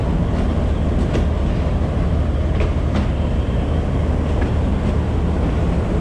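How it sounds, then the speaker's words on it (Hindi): The Thal Express passenger train, led by diesel locomotive HBU 28078, gives off a steady, broad rumble at a station platform, continuous and fairly loud with occasional faint knocks and clanks. "इसको लीड कर रहा है HBU 28078 और ये ट्रेन है 130 डाउन थाला एक्सप्रेस"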